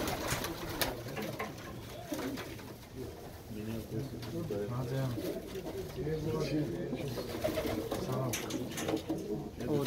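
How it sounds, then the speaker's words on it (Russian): A flock of broad-tailed pigeons coos in a small loft in Baku. Their low, rolling coos overlap continuously and sound close by. "Все голуби широкохвостые."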